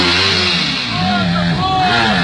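Enduro motorcycle engine at a race in Aracruz, revving hard in repeated rising and falling bursts up toward the rev limiter, loud and close, with voices shouting over it.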